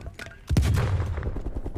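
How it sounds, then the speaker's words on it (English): Single AK rifle shot in the Call of Duty Cold War video game, a sharp loud boom with a short rumbling tail, preceded by quieter game noise. "One bullet with an AK, bro."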